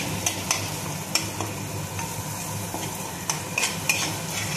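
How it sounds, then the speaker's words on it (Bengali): Spice paste, soaked in water, frying and being stirred in a pan for a papaya malai curry, with steady close sizzling and several sharp scraping clicks of the spoon against the pan. "এবারে এই মশলাটা আমি এর মধ্যে দিয়ে দিলাম, দিয়ে একটুখানি আমি কষবো।"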